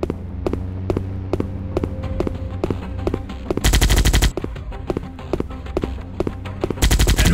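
Gunfire from robots in a mobile robot battle video game: rapid, evenly spaced shots in a steady stream, broken by two louder, denser bursts of fire over a sustained electronic drone.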